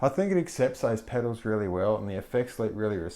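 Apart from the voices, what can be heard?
No distinct noise like a dog, phone or traffic.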